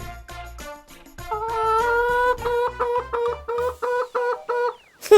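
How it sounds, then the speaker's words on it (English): A hen clucking in a children's farm-animal piece, a run of short, rhythmic clucks that grow choppier toward the end, sounding over a tuneful musical backing. "Hen."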